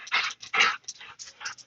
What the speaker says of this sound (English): Dogs are having a blast out there.